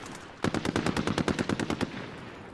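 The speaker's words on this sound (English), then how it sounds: "Small caliber rounds here." Small caliber gunfire in a battle royale video game, a rapid automatic burst of about fifteen sharp, evenly spaced shots, loud and close, with no talk over it.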